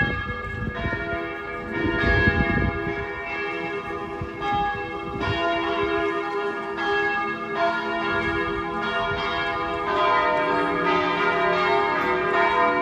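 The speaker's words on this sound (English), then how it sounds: "Oh, the bells is nice." Church bells ring out over Ljubljana, a loud, continuous peal of overlapping strokes with a sustained, ringing hum that fills the air and carries on without a break.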